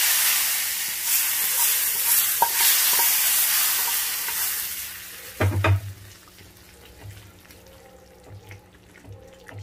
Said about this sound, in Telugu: పప్పు, శనగపప్పు అండి కొద్దిగా కొద్దిగా వేసుకోవాలా. తిరగబాటు వేస్తున్నానండి.